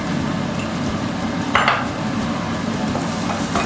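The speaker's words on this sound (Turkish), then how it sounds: "Karıştırıyorum." Ground-meat pasta sauce with black pepper and chili flakes stirred in a pan, a steady sizzling bed with a spoon scraping once clearly near the middle.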